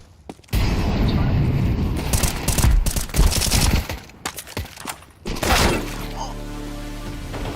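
An incendiary grenade thrown and bursting in the tactical shooter game Valorant, a loud sustained roar of fire and crackling amid gunfire and impacts, with a steady hum trailing off at the end.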